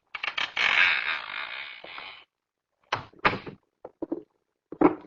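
A door creaking open as a sound effect in an old-time radio drama, a long drawn-out creak followed by several shorter creaks and knocks, close and isolated with silence between.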